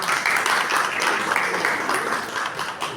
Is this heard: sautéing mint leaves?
no